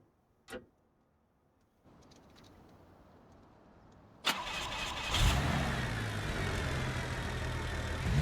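A 1980-1982 Bruckell Legran BCPD police car in BeamNG.drive: a single click, then a quiet pause before the starter catches and the engine fires up loudly into a steady, rumbling idle.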